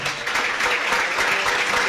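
Audience applause for a woman at a Catholic religious gathering in El Salvador, a steady dense wash of many hands clapping throughout, without voices.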